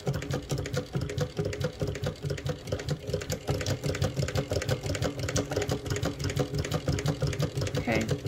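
Mauzer Mannan cylinder arm chain stitch machine sewing a hat, a fast, steady, close mechanical rattle of needle strokes that runs continuously throughout.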